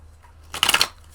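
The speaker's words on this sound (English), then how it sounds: "shuffle these cards some more" Tarot cards being shuffled at close range: a single quick riffle lasting about a quarter second, crisp and papery, standing alone over a faint low hum.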